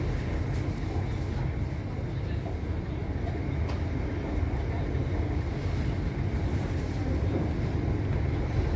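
Onboard a West Midlands Railway Class 323 electric train running from Bromsgrove toward Birmingham New Street, a loud, steady low rumble and rolling noise fills the carriage, with some wind buffeting and no clear speech.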